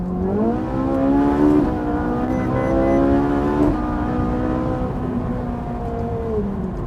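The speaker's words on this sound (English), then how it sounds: "Do you want to hear some engine noise? Well, get a load of this." A Ferrari 458 Italia engine revs up and down repeatedly, its pitch climbing and dropping in steady, loud, close sweeps.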